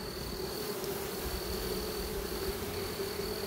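Honeybees from a week-old swarm colony buzz in an opened hive box, a dense, steady hum close by with a thin high whine running through it, with no talking.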